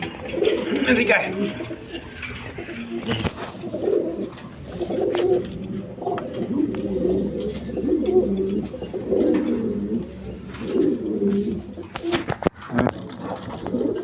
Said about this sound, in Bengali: দর্শক এখানে এক পেয়ার আপনার কোকা কবুতর আছে